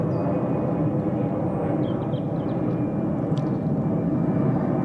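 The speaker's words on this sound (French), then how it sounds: "J'attends parce qu'il y a l'avion qui passe et ça fait du bruit." A fixed-wing airplane passing overhead outdoors, a steady loud broadband engine roar that holds throughout with no voices.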